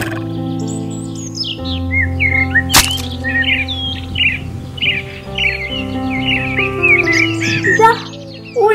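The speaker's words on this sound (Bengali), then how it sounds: "আরে কি সুন্দর দুইটা পাখি।" Two cartoon birds chirp and tweet in quick, bright bursts over steady background music, with one sharp hit partway through and no speech.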